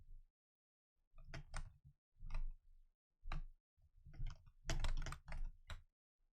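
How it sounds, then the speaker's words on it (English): Bursts of typing on a computer keyboard, clustered clicks arriving in uneven runs with short pauses, close and fairly clear with no talking. "Just typing up the little pinned message to remind people."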